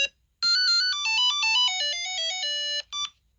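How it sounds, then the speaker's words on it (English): A Game & Watch Super Mario handheld sounds its lose-a-life tune, a fast descending series of piercing electronic beeps held almost continuously, ending with one brief separate beep, with nothing else audible. "And that's when he's lost a life."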